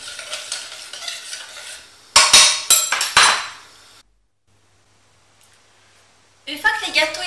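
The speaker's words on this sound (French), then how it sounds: "je vais la mélanger pendant une bonne dizaine de minutes à feu moyen" Jam mixed with orange blossom water is stirred in a pan over medium heat, giving loud, close bursts of scraping strokes, a few seconds of near silence, then more stirring.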